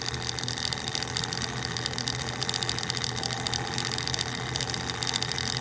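A DC flyer motor fitted with a new magnet idles with a steady, growly whirring hum, close and continuous, with no voices.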